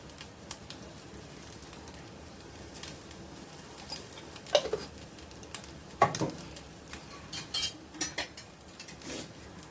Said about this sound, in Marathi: छान सगळ्या बाजूने आपल्याला हलवून घ्यायची खिचडी